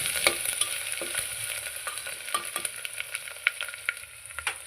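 Ginger garlic paste sautéing in a pan for soybean pulao: close sizzle with a rapid series of spoon taps and scrapes against the pan, no talking.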